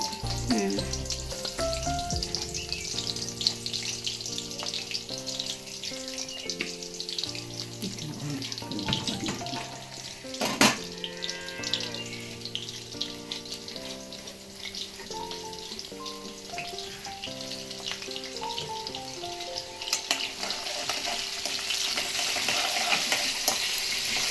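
Crushed garlic sizzling in hot oil for tomato chutney, a continuous crackling fry with occasional stirring, heard under steady background music.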